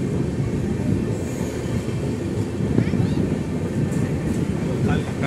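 Electric intercity train 22960 Jamnagar–Vadodara rumbles through a station between Rajkot and Surendranagar, a loud continuous roll of wheels and carriages with brief squeals, while voices murmur on the platform.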